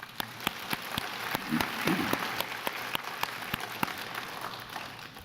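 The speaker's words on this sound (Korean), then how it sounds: "아버지들 격려 박수 한번 해주세요." A church congregation on Father's Day gives applause in encouragement of fathers: scattered, distinct claps from a modest crowd, fairly faint and uneven, with individual hand strikes standing out.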